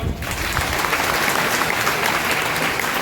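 Dense, loud applause from a large crowd at an outdoor political rally, a steady wash of clapping that keeps up evenly from start to finish with no break.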